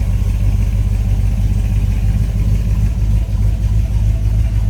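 The 6.6-liter engine of a 1978 Pontiac Trans Am idles steadily with a deep, continuous low rumble, loud and close, with no talking.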